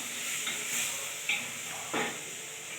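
Green gram and eggplant sauté in a pan with a faint, even sizzle and hiss, joined by a few soft stirring scrapes.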